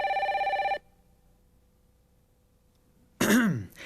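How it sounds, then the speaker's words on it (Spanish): A magic telephone on a Spanish-language Sesame Street show gives one short, bright, electronic ring. A long pause follows, then a brief vocal sound near the end. "¡Oh! Es mi teléfono mágico."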